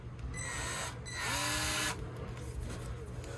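A power drill whirs steadily near a gray water tank in an RV, speeding up briefly for a short higher-pitched burst mid-way before settling back to a constant hum, with no talking.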